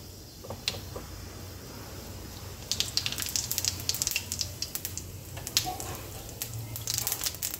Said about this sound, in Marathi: आपली मोहरी जिरं छान तडतडलं आहे।